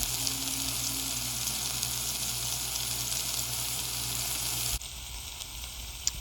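Beef kofta kebabs cooking in a pan with a constant, close hiss of frying, steady and even with no talk, dropping to a quieter sizzle near the end.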